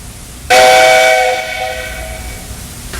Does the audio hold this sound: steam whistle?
yes